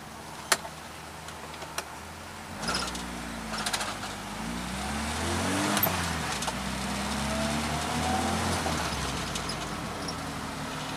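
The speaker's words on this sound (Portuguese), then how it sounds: "Vocês viram a arrancada, né, velho?" Car launching hard from a standstill in an acceleration run, engine note rising and sweeping upward in pitch over several seconds, loud and close with steady road and wind noise, no talking.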